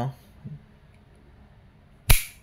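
Decocking an Umarex M92A1 airgun pistol produces one sharp, loud metallic snap up close. It follows a couple of soft handling clicks in a quiet room.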